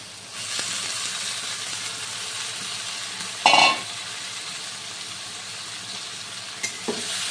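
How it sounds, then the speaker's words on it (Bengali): Boiled pointed gourd and potatoes fry in spiced oil with a steady loud sizzling hiss, broken by a sharp burst of crackling and occasional scraping stirs. "এগুলো কিন্তু মশলার সাথে খুব ভালো করে নেড়ে চেড়ে নিতে হবে।"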